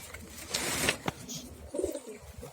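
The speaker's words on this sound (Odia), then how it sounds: "ସବୁ ପାରା ଆମର ଠିକ୍ ଅଛନ୍ତି" Domestic pigeons in a home loft cooing, with a few low soft coos and a brief rustle of wings or movement, close and fairly faint, without talk.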